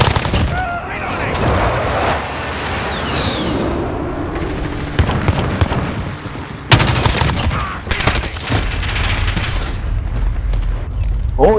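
Airstrike explosions in Call of Duty Warzone on the Scrapyard map, a loud run of booms and gunfire bursts. Heavy blasts hit sharply near the middle and keep rumbling, with a radio voice cutting in.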